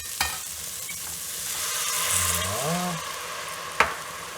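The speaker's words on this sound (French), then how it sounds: "Donc là, on va déglacer avec le vin blanc." White wine poured into a hot pan of softened onion and shallot for deglazing, giving a steady close sizzle with stirring and scraping, a rising hiss partway through and a sharp clatter near the end.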